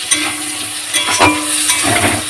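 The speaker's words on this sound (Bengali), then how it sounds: "টমেটোটা দিলাম টমেটোটা একটু ভেজে ভেজে নিচ্ছি" Chopped tomatoes fry in a pan of oil for chicken kosha, a steady close sizzle with soft stirring scrapes running throughout, no voices.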